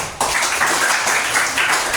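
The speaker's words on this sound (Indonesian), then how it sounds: "Yuk, tepuk tangan dulu." A classroom of students clapping their hands together, a sudden burst that starts sharply and carries on as steady, close, fairly loud applause for about two seconds.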